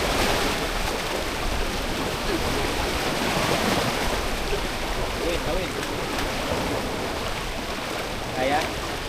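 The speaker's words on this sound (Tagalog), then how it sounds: "Padaanin mo na yung alon." Sea surf at Cagsiay, Mauban, Quezon washes in with a continuous rushing roar of breaking water, fairly loud and steady throughout.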